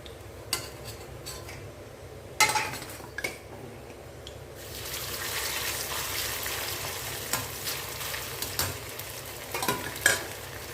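Eggplant pieces sizzle steadily in hot oil for a fenugreek curry, with a constant frying hiss and sharp scraping clinks of a utensil stirring against the pan, with no voices.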